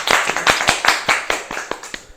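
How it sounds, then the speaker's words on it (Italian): A small studio audience gives brief, scattered applause, about a dozen distinct claps in an uneven rhythm that taper off within a couple of seconds. "Un applauso a tutti."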